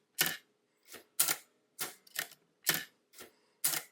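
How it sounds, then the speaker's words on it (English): Typewriter mechanism striking in sharp, loud mechanical clacks, seven evenly spaced snaps heard close and alone with brief silences between. "Kind of like you'd expect from a typewriter, where changing the line and returning the carriage position to 0 would be two physically different"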